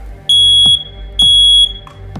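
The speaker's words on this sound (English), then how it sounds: "we're going to test this alarm, and you reach up, press the test button" A household smoke alarm sounding as its test button is pressed, two loud piercing shrill beeps in even rhythm, close by, with no talk.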